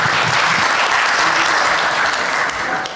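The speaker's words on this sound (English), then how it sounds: "Please, a round of applause" At a network operators' conference, the audience gives the panel a steady wash of applause, dense and even for nearly three seconds before tapering off.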